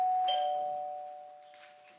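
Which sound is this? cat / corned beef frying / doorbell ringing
doorbell ringing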